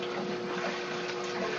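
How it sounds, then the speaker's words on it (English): Maytag A50 twin tub washing machine running with its lid down, giving a steady, close wash-water splashing and churning with a constant motor hum, no pauses and no voices. "If I put the lid down, you can hear there's a bit of splashing"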